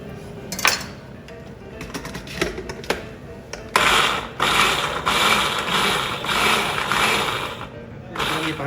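A food processor grinds cauliflower into rice-like grains, starting with a few clattering knocks and then settling into a loud, steady whirring buzz close by.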